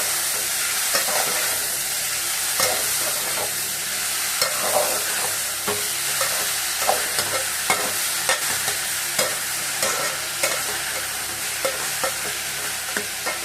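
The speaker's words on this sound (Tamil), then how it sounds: "வெங்காயம் கொஞ்சம் நேரம் வதங்கணும்" Onions sauté for Chennai-style vada curry, frying with a loud, constant sizzle and crackle, punctuated by regular scraping strokes of a spatula stirring in the pan.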